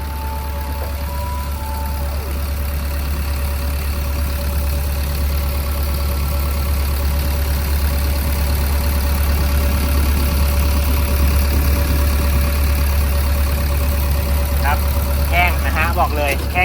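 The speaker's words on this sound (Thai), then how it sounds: "เสียงเครื่องก็แน่นๆนิ่มๆดีปกตินะครับ" A Kobelco SK135SR-2 12-ton excavator's Mitsubishi diesel engine idles with a steady, deep, even rumble, loud and close, holding unchanged the whole time.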